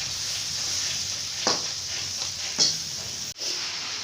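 Spices and tomatoes frying in a pan for aloo gobhi, a steady close sizzle with a couple of brief stirring scrapes partway through and no talking.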